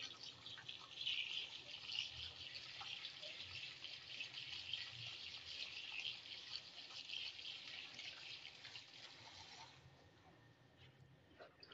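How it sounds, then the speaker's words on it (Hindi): Cold tap water pours over freshly boiled food in a kitchen, a steady splashing hiss close by that runs evenly for about ten seconds before cutting off. "ठंडा पानी ऊपर से गुजार लेंगे"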